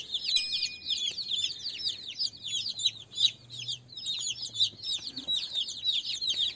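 Many young incubator-hatched chicks peep in rapid, overlapping high-pitched chirps, continuous and fairly close, with no talk.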